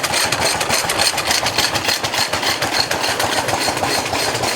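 A stationary engine runs at an old corn mill, giving a steady, loud mechanical chugging with a fast rhythmic pulse that stays even throughout, with no voices over it.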